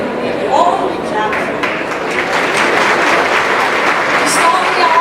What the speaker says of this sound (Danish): skal vi ikke lige give pigegarden et ordentligt klap?